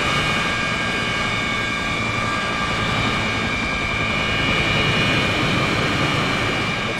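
A steady, loud jet-aircraft whine with a constant high tone and a broad roar as a plane taxis in the Arma 3 game, unchanging throughout with no voices.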